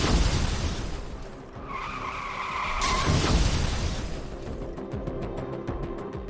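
A car at very high speed on a dark highway skids with a rising tire squeal, then slams into the road divider with a sudden loud crash, followed by rattling debris and fading scraping noise.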